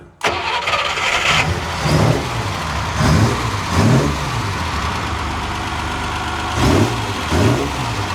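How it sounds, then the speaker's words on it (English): A Unimog 404 engine, just fitted with a rebuilt fuel pump, cranks and catches, then settles into a steady medium-pitched idle with several short throttle blips rising and falling over eight seconds, loud and close, with no voices. "So ignition on. Give her a little bit of gas here."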